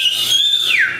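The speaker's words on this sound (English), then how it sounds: "I'd like to hear you guys whistle" An audience whistles together on cue, one loud clear tone gliding up and then sweeping down over about a second.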